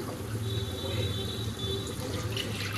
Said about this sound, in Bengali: এবারে আমি জল দিয়ে দিচ্ছি আন্দাজ মতন।